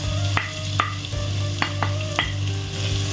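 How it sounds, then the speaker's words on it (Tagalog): Ginger and onion sauté in hot cooking oil with a continuous sizzle, punctuated by several sharp clicks of a utensil against the pan at irregular intervals, close up. "maggisa na tayo. Mainit na ang ating mantika. Yan, ilalagay ko na ang ating luya."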